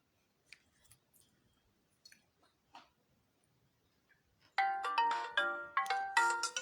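A phone ringtone for incoming calls starts abruptly after a few quiet faint clicks, then plays a bright repeating melodic chime, loud and close.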